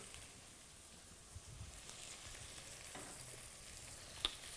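Soft, steady sizzling of potatoes and onions frying in a pan, with occasional stirring clinks, quiet and close.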